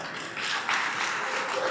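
Audience applause for the bishop at a priest ordination ceremony in Senopi, a steady wash of clapping from a crowd that holds for the whole moment without pause.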